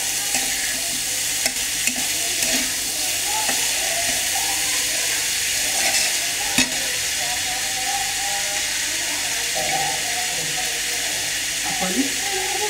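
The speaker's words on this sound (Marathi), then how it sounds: "आता आपण तिखट, मीठ, गूळ घालून भाजी परतून घ्यायची." Banana flower bhaji with chili, salt and jaggery stir-fried in a pan, a steady close sizzle and hiss with scattered scraping and stirring knocks throughout.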